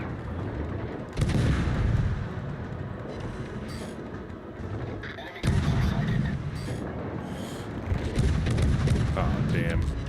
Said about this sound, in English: Is that dude really shooting torpedoes at me?